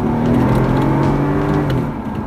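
A 2012 Mercedes E550 engine is floored at full throttle from about 45, giving a loud, sustained rising roar heard up close from inside the car, with no speech.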